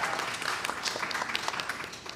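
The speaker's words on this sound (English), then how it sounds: "Another round of applause for our outstanding panelists here." A conference audience at a workforce development summit applauds panelists, dense continuous clapping with crisp individual claps throughout, fairly loud and steady.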